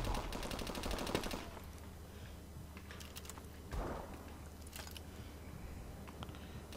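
Automatic gunfire in Call of Duty: Advanced Warfare rattles in a fast burst at the start, followed by quieter scattered shots and a second short volley midway, faint and somewhat distant throughout.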